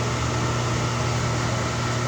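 A hot air blower heating the glass cover of a solar light gives off a steady, loud, unbroken rushing whoosh with no other sounds.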